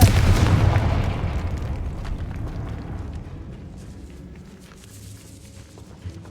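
The Confringo blasting spell goes off in the Hogwarts Legacy video game, opening with a heavy, booming explosion that rolls away into a long rumbling decay with scattered debris crackles.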